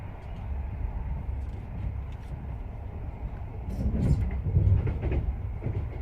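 An HST passenger train slowing on its approach to Swindon: a steady low rumble of the rolling train with faint rail clatter and a brief swell in loudness toward the end, with no voices.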